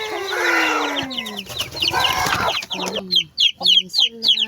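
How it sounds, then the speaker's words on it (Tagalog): Chickens cluck loudly alongside high, rapid peeping of newly hatched chicks, close and continuous, with a voice briefly talking among them. "Bagong sisiyo."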